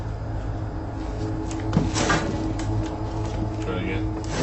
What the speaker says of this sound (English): Did you hear the creaking of the door? I heard a creak, and I actually heard kind of a bang.